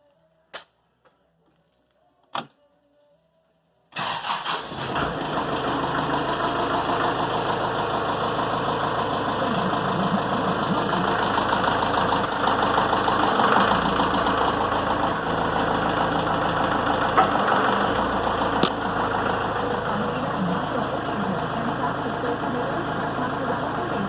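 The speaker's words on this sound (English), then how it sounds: "let's fire up the tractor here, and we'll operate that jaw back and forth" A tractor engine fires up and settles into a steady, close idle with a light ticking rhythm, running to power the hydraulics of a Titan tree puller after a few brief clicks and knocks beforehand.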